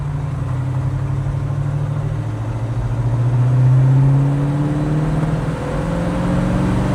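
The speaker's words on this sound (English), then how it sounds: "Smooth running car though." A 1965 Chevy Chevelle Malibu with a 283 two-barrel V8 and two-speed Powerglide hums steadily while driving, its engine note climbing gradually and then settling again. The sound is moderate and close, with no talking heard.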